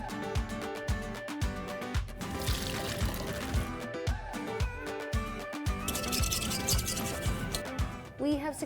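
Water is poured steadily into a container during a glass potato chip cooking attempt, a continuous splashing trickle heard close up, with busy kitchen clatter and some talking over it.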